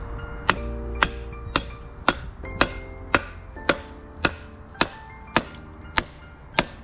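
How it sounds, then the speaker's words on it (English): A hammer strikes wood about a dozen times in an even, unhurried rhythm while rebuilding a Toyota Celica CV axle, each blow a sharp knock with a short ringing decay. "Maybe I'll get my hammer."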